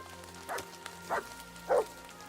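A dog in Kingdom Come Deliverance 2 gives three short, evenly spaced barks, moderately close, over a quiet background.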